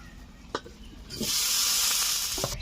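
Potatoes frying in leftover oil from frying fish, a steady broadband sizzle swelling up partway through and holding loud, with a few faint clicks before it starts.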